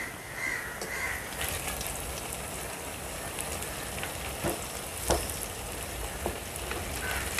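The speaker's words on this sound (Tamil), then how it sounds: "அடுப்பை நல்லா மிதமான தீயில் வச்சு பொறிச்சு எடுக்கலாங்க." Snacks deep-frying in oil over a medium flame, a faint continuous bubbling sizzle that goes on for several seconds, with a crow cawing now and then in the background.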